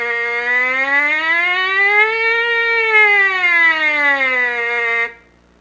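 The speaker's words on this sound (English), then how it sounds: "take your mouthpiece and buzz a siren up and down, as smooth and as slow as possible" A trumpet mouthpiece buzzed alone in a smooth, slow siren glide, rising and then falling in pitch with a rich, steady tone for about five seconds before stopping abruptly.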